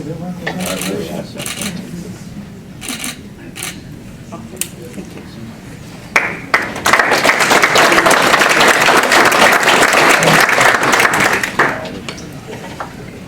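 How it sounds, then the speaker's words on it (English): Audience applause at a school alumni awards ceremony, with scattered claps and talk early on, then a sustained loud burst of clapping that swells and fades off toward the end. "Round of applause."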